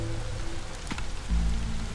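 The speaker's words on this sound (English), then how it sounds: "it is raining, and look at that" Steady rain in the Against the Storm video game, a dense continuous patter of drops on surfaces with a low ambient hum beneath it, close and even throughout.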